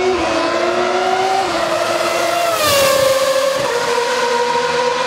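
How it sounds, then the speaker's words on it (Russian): A Formula 1 race car engine screams at very high pitch, shifting up through gears as it blasts past, loud and sustained. "Прям настоящий звук Формулы-1."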